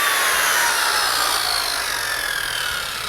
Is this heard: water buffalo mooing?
no